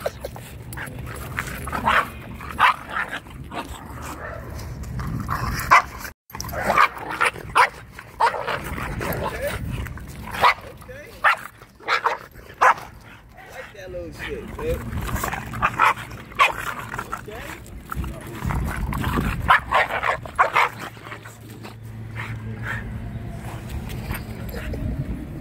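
A dog yips, whimpers and barks in short bursts over outdoor background noise, with people talking nearby.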